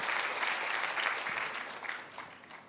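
A congregation claps at a morning prayer service, a thick burst of applause that starts loud and gradually thins and fades toward the end.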